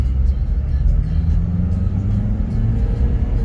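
A 2002 Honda CR-V 2.0 E i-VTEC 4WD pulls away in first gear on an open road, its engine giving a loud steady rumbling drone from inside the cabin as it accelerates.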